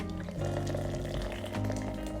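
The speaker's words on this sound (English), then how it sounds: "Next you have to pour 4 to 5 ounces of hot water into your cup." Hot water pours steadily into a cup while making boba tea from a DIY kit, a continuous liquid fill that stays fairly soft and close over about two seconds, with no talking.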